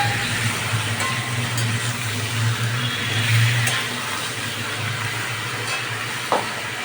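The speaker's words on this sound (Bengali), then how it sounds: "একটু নাড়াচাড়া করে ভেজে নিই।" Chicken fries in a pan while being stirred, producing a steady, loud sizzle with a low rumble underneath. It stays continuous and close throughout, with occasional faint scraping and no talk.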